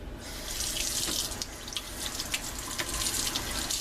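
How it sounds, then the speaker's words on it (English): A kitchen tap runs steadily into the sink with a loud, close rushing splash that keeps going without a break, and no one talks over it. "Get some water running."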